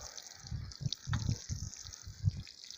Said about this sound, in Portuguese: primeiramente eu vou regar aqui um espaço